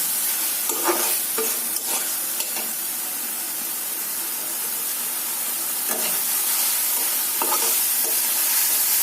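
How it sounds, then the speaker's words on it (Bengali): Moringa leaves sauté in a pan with onion, garlic, ginger and turmeric, giving a steady loud sizzle and hiss with occasional scraping stirs throughout, no voices. "রান্নার এই ছোটো শব্দটা আমার কাছে ভীষণ ভালো লাগে।"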